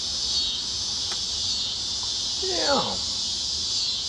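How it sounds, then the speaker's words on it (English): Crickets chirping at night after rain, a dense, continuous high-pitched trilling from a large swarm that fills the whole stretch, with a brief spoken word and a short sweeping noise partway through. "the crickets are now making a lot of noise"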